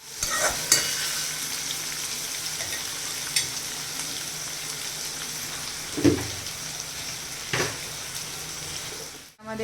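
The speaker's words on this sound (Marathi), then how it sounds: "त्यामध्ये हिरवी मिरची आणि कांदे असे ते ॲड करून द्यायचे आहे आणि छान असं परतून घ्यायचं आहे" Curry leaves, green chillies and onions sauté in a pan with a steady close sizzle, broken by a few sharp clinks and scrapes of a stirring spoon, with no talking.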